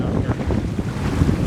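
Steady wind at sea aboard a sailboat, a loud continuous rushing and buffeting against the microphone with sloshing water underneath and no talking.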